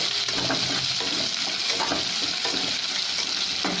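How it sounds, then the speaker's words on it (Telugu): Onions, green chillies and curry leaves fry steadily in hot oil for a capsicum curry, a loud continuous sizzle close up with faint stirring scrapes and no talking. "ఉల్లిపాయలు పచ్చిమిరపకాయలు కరివేపాకు వేసి పెట్టుకున్నాము అవి కొంచెం వేయించుకున్నాను"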